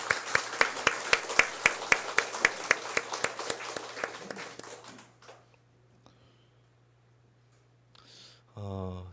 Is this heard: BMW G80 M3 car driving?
no